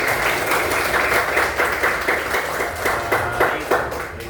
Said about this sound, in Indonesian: Tepuk tangan untuk Najma.